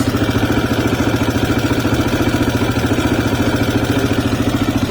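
A CSC RX3 motorcycle with stock gearing and a 14-tooth front sprocket idles near 1500 rpm, a steady close mechanical putter with even rapid pulses and a slight wavering in speed, with no voices.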